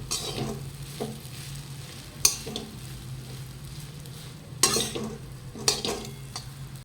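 Fenugreek seeds being stirred and dry-roasted in a pan for traditional methi ladu, a steady low sizzle with a few sharp scrapes and clinks of the spoon against the metal, close and moderately loud.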